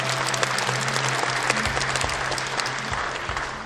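An audience claps at a provincial March 1st Independence Movement Day ceremony in Gyeongbuk, Korea, during an award presentation, a loud, steady, dense round of applause filling the hall from start to finish.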